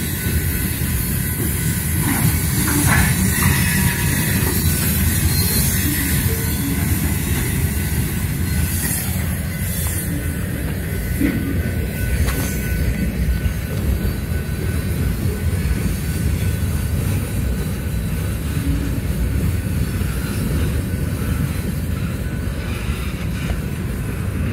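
A Conrail freight train rolls steadily past at close range, a string of hoppers and loaded boxcars rumbling continuously with clattering wheels and occasional faint squeals over the whole stretch.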